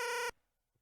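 Famitracker 2a03 chiptune instrument looping rapidly between two very close notes, giving a buzzy, overclocked vibrato; a single bright burst of about a third of a second, then it cuts off into silence.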